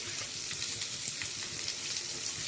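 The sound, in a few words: chopped onions and green chillies frying in oil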